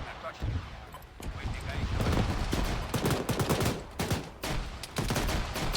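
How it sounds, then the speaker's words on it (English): Sustained grenade machine gun fire in an Arma 3 battle, with dense, irregular bursts of sharp reports over a constant roar of combat noise. "I'm hearing more GMG fire"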